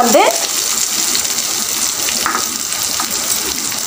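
Curry leaves fry in hot oil for soyabean 65, giving a steady close sizzle with a brief sharper crackle at the start and a few small pops, no talking.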